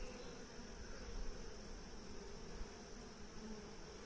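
Honeybees in a nuc fan their wings around a caged queen, making a soft, steady, continuous buzzing hum, close but faint, with no talk over it.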